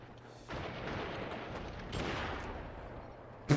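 Rifle gunfire from horseback in the western video game GUN, heard as a dense, rushing burst of noisy blasts and rumble that swells twice and ends in a sharp crack.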